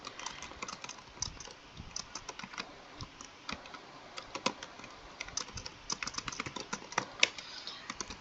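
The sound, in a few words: typing code on a computer keyboard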